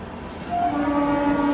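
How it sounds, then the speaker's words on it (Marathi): A train rumbles past close by, its horn sounding a steady held tone over the rolling rail noise. "शूट करायला घेतलं की नेमकी ट्रेन येते हे बघा"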